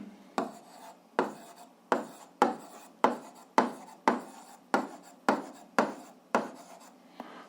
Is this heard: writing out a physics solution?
yes